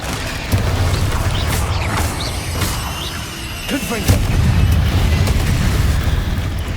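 Confringo spell explosions in the Hogwarts Legacy video game, a series of booming blasts over continuous low rumble, with a heavier burst near the end, loud and close.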